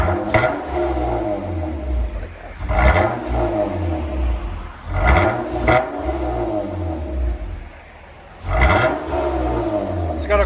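2016 Honda Accord V6 with Borla S-Type dual exhaust, resonator removed, revved repeatedly in short bursts, each rising to a loud roar and falling back to a burbling idle, close up.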